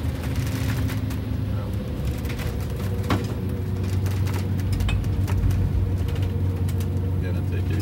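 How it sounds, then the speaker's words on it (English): A Wanderlodge RV bus with a rebuilt 8V92TA diesel engine pulls uphill. Its steady, loud, low engine drone fills the whole stretch, with road and wind noise over it, and passengers can be heard talking under it. "I cannot believe you're accelerating up these hills"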